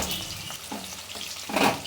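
Cauliflower frying in oil in a pan and being lightly stirred, a steady close sizzle with a louder hissing swell near the end.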